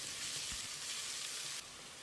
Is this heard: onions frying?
yes